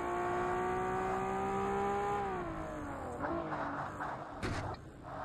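A race car in the Forza Motorsport racing game, during a Japanese car career event, roars at high revs, then drops pitch as it shifts and decelerates. Tire scrubs and rumbles follow near the end.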